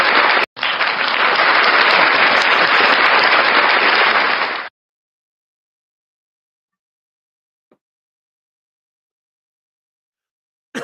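A burst of audience applause at a stand-up comedy show, dense and steady for about four seconds before cutting off abruptly into silence, with a faint sound near the end.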